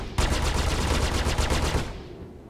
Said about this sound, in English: Now I have all three weapons firing at the same time.